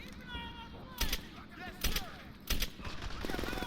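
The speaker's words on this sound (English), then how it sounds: "right now I'm shooting small bursts" Short bursts of automatic gunfire in the World War II shooter Medal of Honor: Airborne, with a modded Redux weapon, three sharp loud bursts spaced about a second apart over steady game ambience and a louder rattle at the end.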